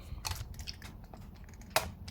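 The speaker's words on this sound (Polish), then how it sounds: "Czekolada w środku wygląda tak i biorę pierwszego gryza." Dubai chocolate gets bitten and chewed up close, with a crisp crunch of the first bite followed by quiet, soft, irregular chewing and squishing. A second sharp crunch comes near the end.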